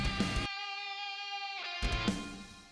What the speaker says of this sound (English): So you can hear the hall reverb is